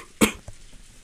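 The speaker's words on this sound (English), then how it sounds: "I didn't want to cough during the video." A single sharp, close cough from a man, short and loud, followed by quiet room noise.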